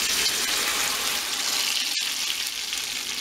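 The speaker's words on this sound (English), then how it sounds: "You want to hear it nice sizzly." Tomato sauce for red enchiladas sizzles in a hot pan, a steady loud hiss of frying like running water, continuous for about three seconds with one brief dip near the two-second mark.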